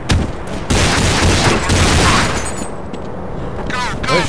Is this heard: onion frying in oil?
no